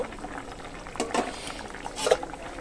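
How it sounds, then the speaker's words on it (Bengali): Low bubbling of fish curry broth with potatoes simmering in a pot, with a couple of louder bursts of bubbles popping. "ঝোলটা কিন্তু আমার ফুটে উঠেছে কত সুন্দর"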